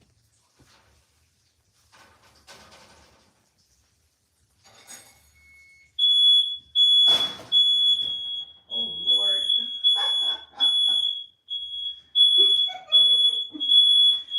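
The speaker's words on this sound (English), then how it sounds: "So I set off the alarm." A smoke alarm beeps repeatedly in a steady, loud, high-pitched pattern, with a person speaking briefly over it.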